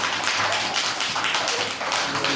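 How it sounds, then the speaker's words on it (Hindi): A group of schoolchildren clap together for a young student in a classroom, producing a dense, steady patter of many hands that stays loud and close throughout without pause. "इनके लिए ताली क्लैप करो जरा इनके लिए।"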